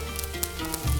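Jigar kebab, Tashkent-style liver with red pepper, frying in a hot pan, giving off a steady close sizzle with crackling spits and a louder, denser surge at the end.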